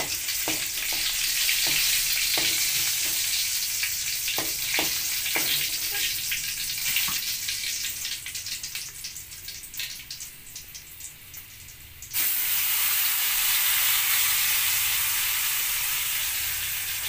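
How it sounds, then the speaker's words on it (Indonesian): Spice paste stir-fried in a pan for an eggplant and anchovy dish, sizzling steadily throughout with scattered scraping stirs early on, then a louder burst of frying near the end. "Sebagiannya lagi ditumis."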